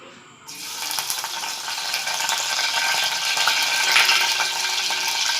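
Curry leaves dropped into hot oil in a frying pan set off a sudden loud, steady sputtering crackle that holds strong and close for several seconds.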